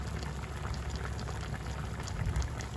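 Chicken afritada simmers in a pot, a steady low bubbling and faint popping that runs continuously, close and quiet, with no talk.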